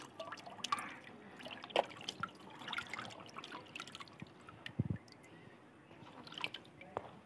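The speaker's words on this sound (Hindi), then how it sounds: "ये देखिए पानी इधर से कैसे निकल जा रहा है।" Water draining and dripping through a woven bamboo basket of mixed spinach, bathua and fenugreek greens in a village setting, with soft irregular drips, trickles and squishy wet sounds, fairly faint and close.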